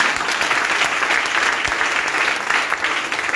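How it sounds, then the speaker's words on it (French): A church congregation bursts into sustained, dense applause during an evening service of praise, steady clapping filling the room for the whole stretch without letting up. "On peut acclamer le Seigneur quand même."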